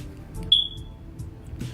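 A smoke detector lets out a single short, high electronic chirp, close and fairly loud, over a steady low background hum, with no talking.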